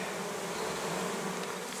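Honey bees buzz at a hive, a dense, continuous close drone of many insects with no voices over it.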